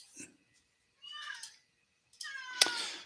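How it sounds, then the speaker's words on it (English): A cat meows three times nearby, each call short and clear with quiet pauses between them, the last one the loudest. "got a cat over here"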